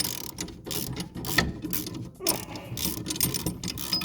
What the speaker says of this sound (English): take the regular old hand wrench, take it off here